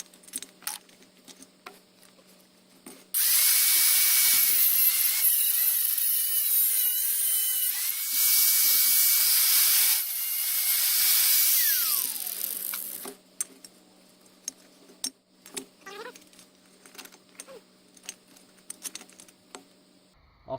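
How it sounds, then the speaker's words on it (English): A cut-off grinding wheel slices through the ear of an exhaust flange, a loud high-pitched whine lasting about ten seconds that drops off as the wheel spins down, followed by scattered clicks and taps. "I'm gonna take the grinding wheel or the cut off and just cut that ear right off"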